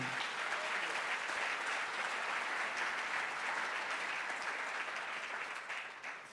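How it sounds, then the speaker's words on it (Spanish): Sustained applause from a church congregation during a sermon, steady and dense throughout, fading slightly at the end. "Que alguien aplauda"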